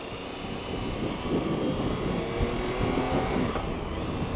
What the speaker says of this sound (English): The triple sound and the triple engine